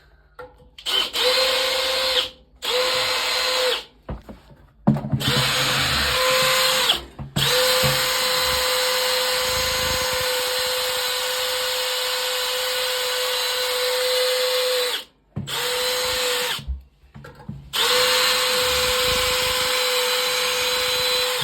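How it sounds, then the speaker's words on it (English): A power drill drilling into a boiler whines loudly in long bursts, stopping and restarting several times, with brief pauses between runs and no talking. "Hey George, got to drill into it and catch the water."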